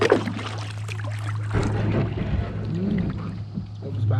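Kayak paddling through water on a lake in the Ontario wilds, soft splashes and trickling drips over a steady low hum, close and fairly quiet, no talking.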